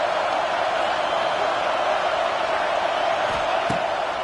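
A football stadium crowd at a college game between Missouri State and Texas A&M roars steadily on a big third down for the defense, a dense, loud wash of cheering that holds throughout with no clear voices.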